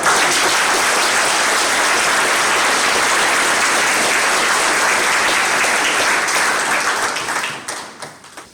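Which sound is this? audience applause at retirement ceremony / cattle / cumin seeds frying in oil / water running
audience applause at retirement ceremony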